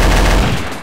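A burst of loud gunfire from the game Garry's Mod, Trouble in Terrorist Town, heavy and close, fading out over less than a second.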